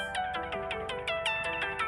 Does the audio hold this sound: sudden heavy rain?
no